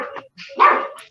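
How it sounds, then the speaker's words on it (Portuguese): A dog barks angrily several times in short, loud bursts near a church service being held online, with faint room noise between barks. "O cachorro está bravo"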